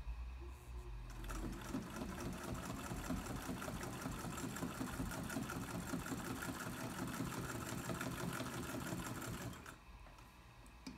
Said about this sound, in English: And our beautiful little machine chugs along